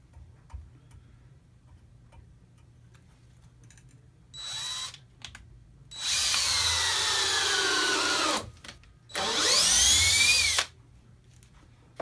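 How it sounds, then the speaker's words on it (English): A DeWalt 20 volt Max cordless drill from the DCK520D2 kit, set to high speed with torque maxed, drives a 2.5 inch decking screw into a pine 2x4 on its side: close whirring bursts rising in pitch, with brief pauses between. "Drill set on high speed."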